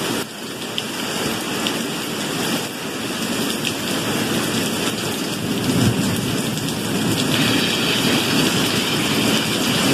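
Heavy rain pours steadily during a thunderstorm, a dense, loud hiss of drops on surfaces with a low rumble underneath, continuous and close, with no one talking.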